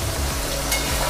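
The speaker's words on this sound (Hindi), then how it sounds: "परवल लगभग फ्राई हो गया है" Pointed gourd (parwal) fries in a pan with an even, close sizzle that fills the short moment without a break.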